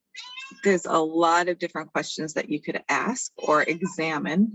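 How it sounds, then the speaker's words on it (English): A pet cat meows in the background indoors, a faint cry mixed under someone speaking steadily in the foreground. "you might hear my cat in the background"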